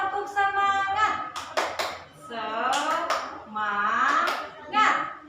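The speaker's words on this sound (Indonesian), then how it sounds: "Tepuk semangat." Indonesian schoolchildren in a classroom perform a rhythmic clap routine, sharp hand claps in short patterned bursts interleaved with a teacher's voice and children chanting along.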